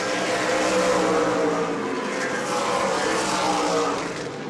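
Super late model race cars roar past on the front straightaway at New Smyrna, a loud sustained engine drone that swells and then eases slightly as they pass.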